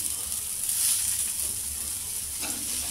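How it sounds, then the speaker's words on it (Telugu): A dosa fries on a hot pan, giving off a steady close-up sizzle with bright hissing crackle and a low underlying rumble, and it swells briefly near the end. "కింది సైడ్ కొద్దిగా ఫ్రై కాగానే ఫ్లిప్ చేసుకోవాలి"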